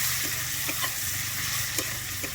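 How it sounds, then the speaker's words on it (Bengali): Chopped onions fry in oil with a close, constant sizzle and a few faint stirring taps, with no talking. "আমি পেঁয়াজটা দিয়ে একটু ভেজে নেবো লাল করে"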